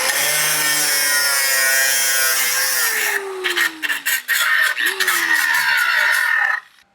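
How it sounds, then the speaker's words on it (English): A grinder disc grinds a weld, starting with a loud, steady high whine for about three seconds. The pitch then drops as it bites, followed by choppy bursts of grinding and a final cut-off. "I'm going to run that grinder disc right there once more"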